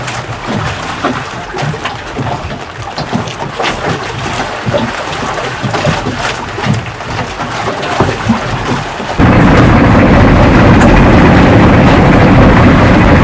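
Steady rain hisses without a break, swelling into a louder, denser downpour for the last few seconds.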